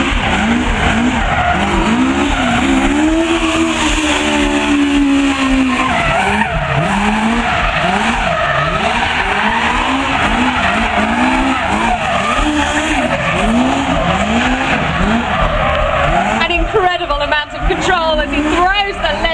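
A stunt car thrown around an arena at a stunt show at Silverstone, its tyres squealing and skidding in long repeated wailing arcs over a revving engine, loud and continuous, with a commentator talking over it.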